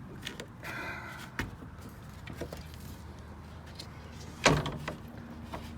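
The wooden door of a backyard chicken coop on an urban homestead, held shut with a nail, is opened and closed, giving two distinct knocking clunks over quiet surroundings.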